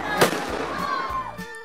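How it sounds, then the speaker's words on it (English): Fireworks go off during Chinese New Year celebrations, a sharp crackling burst followed by a rising whistle and further pops, heard at moderate distance with a voice faintly in the background. "Questionable use of fireworks."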